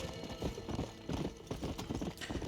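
A horse gallops in the video game Red Dead Redemption: Undead Nightmare, its hooves clip-clopping in a quick, steady rhythm, close and fairly soft, with no voices.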